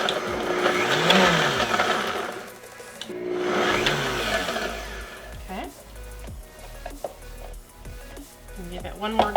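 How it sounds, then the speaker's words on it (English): Basil, garlic cloves and pesto ingredients are churned in a food processor, a loud whirring motor running in two long bursts before stopping, followed by clinks and handling noises while a person talks. "And you just gotta keep doing this, pushing it down. Those garlic cloves are starting to crush."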